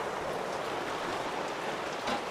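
Heavy rain falls in a backyard, a dense, even hiss of drops on surfaces, close and steady with no voices over it.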